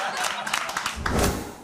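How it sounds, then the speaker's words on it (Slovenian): Studio audience applause for a Slovenian comedy show, a short dense burst of clapping lasting under two seconds, fairly loud and close, with some voices mixed in. "Aplavz za mehne plače!"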